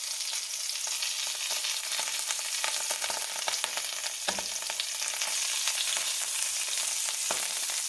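A pork roast sizzles steadily while cooking, a loud, continuous crackling hiss with scattered pops throughout.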